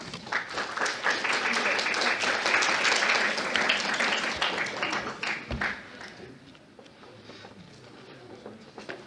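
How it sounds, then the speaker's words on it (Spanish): Audience applause at a medical lecture on head trauma imaging, steady clapping filling the room for several seconds, then thinning out and fading as a few scattered claps linger and a voice begins. "Lo recibimos con un fuerte aplauso"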